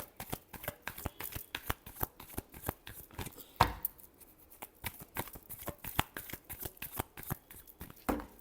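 Tarot cards being shuffled by hand, a steady run of quick, soft riffling flicks up close with one slightly louder slap partway through, and no voices.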